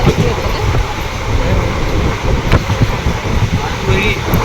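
Inside a moving train, a constant low rumble and rattling clatter of the carriage fill the space, with faint bursts of talk mixed in.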